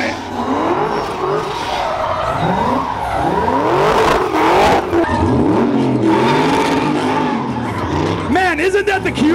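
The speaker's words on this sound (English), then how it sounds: "Uh-oh, I hear supercharger noises." A supercharged car engine revs hard through burnouts at a burnyard, with rising and falling engine pitch, tire squeal and a loud crowd atmosphere, and voices shouting over it.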